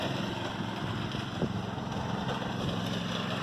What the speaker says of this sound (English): It seems like a pretty good engine so far.